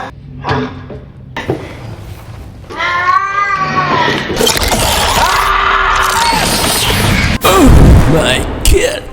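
In a film, an alien creature imitates a cat's meow: a few wavering meow-like cries, followed by rumbling, a sharp bang, and louder creature noises, with voices in between.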